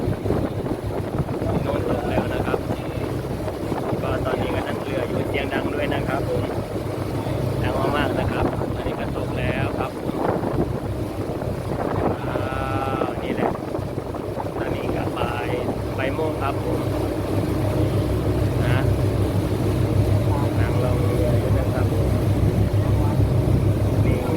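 A boat motoring across open water, its steady engine drone and water wash running throughout with wind buffeting the microphone, while someone talks over it at intervals.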